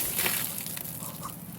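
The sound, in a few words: waterfall splashing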